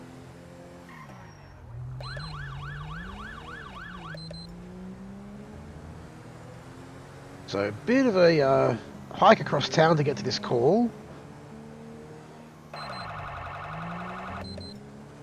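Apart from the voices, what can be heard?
Queensland police sirens in GTA 5 police mod video game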